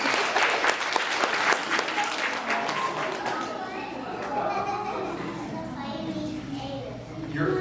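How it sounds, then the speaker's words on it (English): A round of applause for Finley at his fifth birthday party, with close, busy clapping from a group of guests and children's voices and chatter mixing in as the clapping thins out. "Let's get Finley a round of applause"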